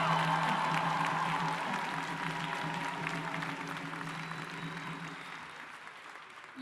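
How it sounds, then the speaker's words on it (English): Steady applause from a large crowd at a university graduation ceremony fills the space, a continuous wash of clapping that slowly fades, with no one speaking. "can I please have another big round of applause for the graduating class of 2023?"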